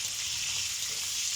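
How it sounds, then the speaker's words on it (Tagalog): Tofu skin sizzles and crackles in hot oil in a pan, a steady, close hiss of frying for a spaghetti-based pancit. "Unahin natin, iprito ang tofu skin."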